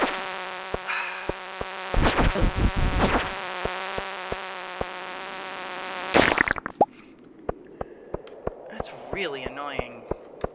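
A bug monster in Stardew Valley gives off a steady insect-like buzzing drone with louder bursts, set against a rhythmic ticking game pulse, followed by quieter stretches of game sounds.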